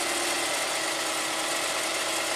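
A Toyota Tarago van's 2TZ-FE engine idling smoothly after an ignition timing adjustment, heard as a steady, even broadband hum with a faint mechanical ticking, constant in level throughout, with no voices.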